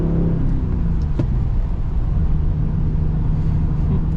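Nissan five-speed car with stock exhaust and stock intake, its engine droning loud and close in a steady low roar under load, no talk over it.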